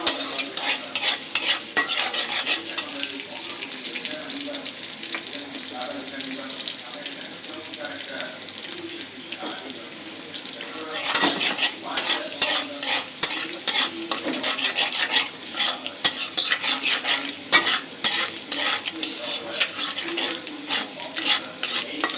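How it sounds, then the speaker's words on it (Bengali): Garlic fries in a pan for a vegetable pasta dish, a bright crackling sizzle with scraping stirs and clinks, quieter midway and then busier, continuing throughout without speech. "প্রথমে রসুন দিব, রসুনটা একটু বেজে নিব।"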